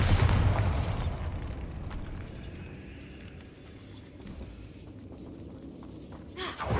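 A Bombarda blasting spell explodes inside a decayed catacomb in Hogwarts Legacy: a loud, close booming burst at the start, followed by a long rumbling, crumbling tail that fades and then swells slightly again at the end.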